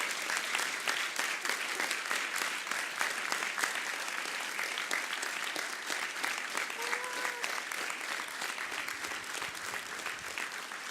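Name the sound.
audience applauding and cheering at a talk event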